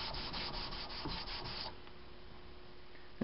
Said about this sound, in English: I can place it on the sander, on top of the sandpaper, and work it back and forth